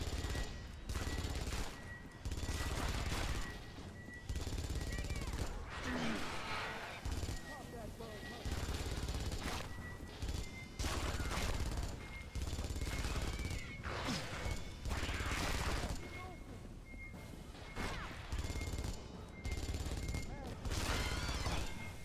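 Dense bursts of gunfire from a smart gun in an alien shooter video game, repeated bursts at close range running almost without a break, with game noise and player voices talking over them.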